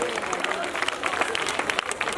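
A crowd at a Ramlila performance in Azadpur applauds steadily, a dense spattering of many hands with a voice speaking over the clapping.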